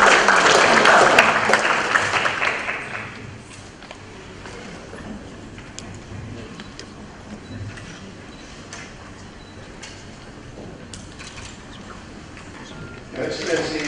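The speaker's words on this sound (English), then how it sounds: "Let's give him a round of applause" Applause for the CEO of the Uongozi Institute at a breakfast session, a burst of clapping for about three seconds that fades quickly into quiet room noise, with a short swell again at the end.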